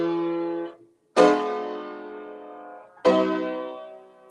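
Three sustained fortepiano chords ring out in turn, each struck cleanly and decaying slowly, forming a short cadence with a sharpened fourth in the bass, with no talking.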